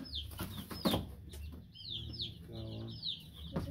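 A rooster clucks and fowl call among a ranch flock, with high chirps from chicks and a few sharp knocks, fairly near and moderately quiet.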